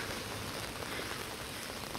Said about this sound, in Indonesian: ini hujan masih deras ya